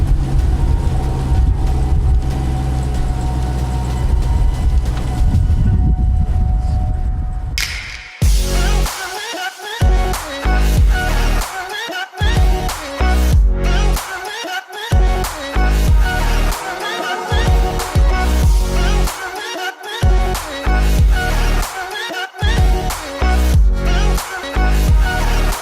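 A 707-horsepower car engine runs loud and close for several seconds with a deep, steady rumble, then gives way to choppy music-like sound with repeated abrupt cutoffs.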